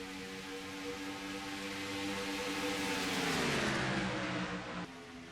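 Race cars roar around an oval track in a stock-car cup series race, a continuous engine drone that swells and its pitch drops as a car passes, then cuts off abruptly.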